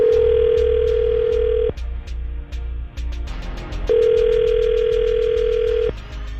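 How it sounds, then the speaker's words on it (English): A telephone call is placed and rings through, with a loud steady tone broken by pauses, then a second long tone, over a rhythmic ticking pulse and no voices. "we're going to call Samantha right now and see if we can get her on the phone"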